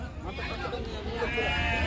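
A sheep bleats with a wavering, nasal cry at a livestock market in Gudur, while a person talks at the same time.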